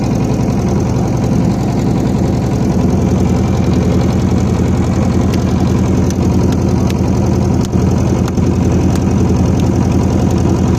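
A boat engine runs steadily close by, a loud, rumbling, continuous drone with a faint rhythmic knock throughout, no voices over it.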